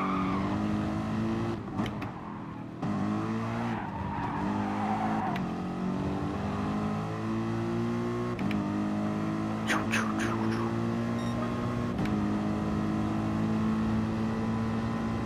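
Race car engines roar steadily in Gran Turismo Sport, revving and shifting close up as cars battle for position, with the engine drone continuous throughout and a few brief tonal game sounds over it.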